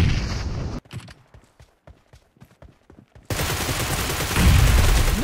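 Video game gunfire crackles in dense automatic bursts, then drops to scattered single and short rapid shots, before a loud wash of heavy continuous firing and booms returns, all up close with no speech.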